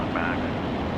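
Propeller airplane engine during the climb-out after a race start, a steady loud droning roar from close inside the aircraft.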